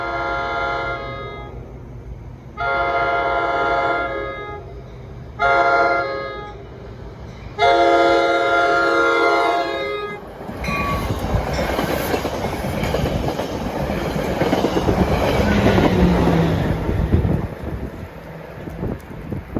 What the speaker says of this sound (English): About to pass Hoboken bound through here without stopping is train 1628.